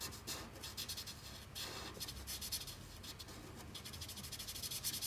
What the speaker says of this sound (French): j'utilise la couleur gris glacé pour venir colorier ici son masque.